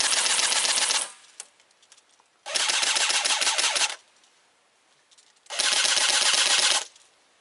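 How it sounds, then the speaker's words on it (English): Three long bursts of airsoft machine gun fire, each lasting over a second, loud and close, with rapid mechanical rattling and short pauses between them. "this is an example of burst fire for a gunner"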